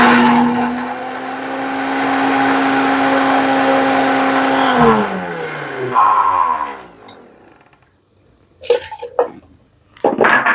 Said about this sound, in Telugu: మిక్సీ పట్టేస్తానండి.